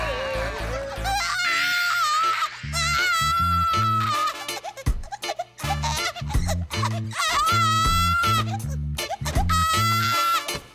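A cartoon baby crying in loud, wavering wails that rise and fall over a bouncy, rhythmic musical backing, filling the whole stretch.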